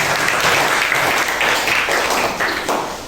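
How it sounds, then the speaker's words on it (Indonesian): Sustained applause from a group audience following a class group presentation, dense and steady clapping filling the room for the whole stretch, no speech over it. "Tepuk tangan."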